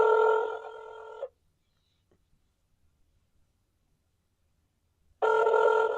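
An old-style telephone bell rings loudly in two bursts, one at the start and another after a few seconds of near silence, with the ringing close and clear.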